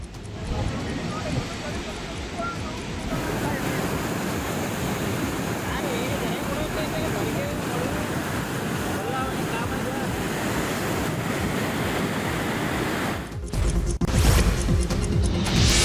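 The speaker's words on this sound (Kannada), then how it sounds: "ಹಿಪ್ಪರಗಿ ಬ್ಯಾರೇಜ್ನಿಂದ ಸಾಕಷ್ಟು ನೀರು ಪೋಲಾಗ್ತಾ ಇದ್ದು" Heavy river water rushes steadily through a broken crest gate of a barrage, a dense, continuous roar with no letup, loud and close, buffeted by wind noise toward the end.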